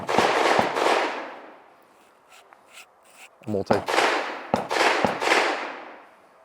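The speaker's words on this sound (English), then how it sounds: "I'm trying to talk around gunfire coming from the next bay over" Loud gunshots crack from a neighboring bay at a shooting range in irregular bursts, with sharp reports and echoing tails, and a brief scuffling sound between volleys.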